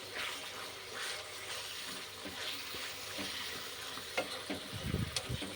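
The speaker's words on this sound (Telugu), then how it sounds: "ఒకసారి కలుపుకొని క్యాప్ పెట్టేసుకొని ఫ్రై చేసుకోవాలి." Chicken being stirred and fried in a covered pan, a faint, steady sizzle with soft clinks of stirring and a few louder scrapes near the end.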